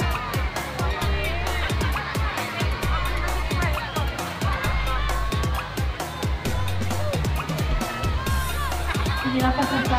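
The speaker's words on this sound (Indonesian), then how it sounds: "Beri tepuk tangan yang meriah untuk SD" A crowd at an elementary school marching competition cheers and shouts amid steady rhythmic drumbeats, with loud, continuous babble and children's voices close by.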